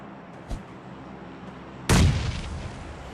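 A grenade explodes in PUBG Mobile Lite with one loud, sudden boom that fades into a rumbling tail, preceded by a faint small pop and quiet background noise.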